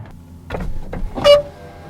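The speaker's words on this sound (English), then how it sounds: "the sound the window makes when it rolls down" Close mechanical whir and thumps as a Wheego car's power window motor runs down, ending in a brief high squeak; no talking.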